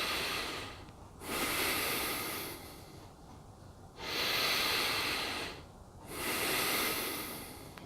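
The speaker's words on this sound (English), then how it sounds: "I would inhale and I would exhale" Slow, deep breaths drawn in and let out in a steady cycle, three long airy inhales and exhales close to the microphone with quiet pauses between them.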